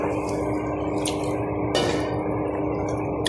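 Water trickling and splashing into a bowl of flour for kneading dough in a short steady pour, close by, with a couple of soft wet plops.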